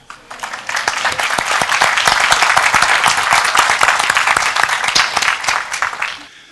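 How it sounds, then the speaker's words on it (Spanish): An audience at the closing of the 20th International Bioethics Seminar breaks into loud, sustained applause, many hands clapping densely for several seconds before it fades out. "Un aplauso para ellos."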